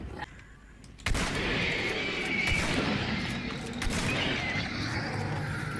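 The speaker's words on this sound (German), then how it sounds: "Die Schüsse waren nicht so weit weg" A sudden loud gunshot crack in the game Hunt: Showdown, followed by a rumbling, noisy stretch with more muffled bangs and distant shots under game ambience.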